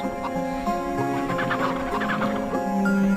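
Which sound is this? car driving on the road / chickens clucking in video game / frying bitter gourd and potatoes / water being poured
chickens clucking in video game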